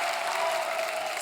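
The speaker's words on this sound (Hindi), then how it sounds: "जोरदार तालियां" Studio audience applause on a Hindi comedy talk show, a steady dense wash of clapping filling the whole short moment without any voices.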